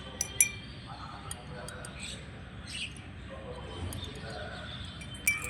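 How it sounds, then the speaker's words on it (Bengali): Spoon stirring sugar and cumin soda premix in a glass, with faint scattered clinks of metal on glass over a low background, a few sharper taps near the start and end. "ভালো করে এখন গুলে নেব"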